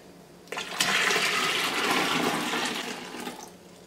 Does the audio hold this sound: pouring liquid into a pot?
yes